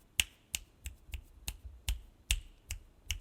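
Eleven crisp finger snaps at an uneven, roughly steady pace, picked up from behind a Rode XCM-50 USB condenser microphone, sharp and fairly close with no talking.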